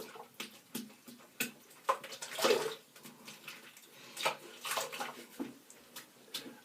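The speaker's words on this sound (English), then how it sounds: "And I'll wash this lovely brush out" Shaving brush rinsed under running tap water, a soft splashing and trickling that comes and goes in uneven bursts, quiet and close.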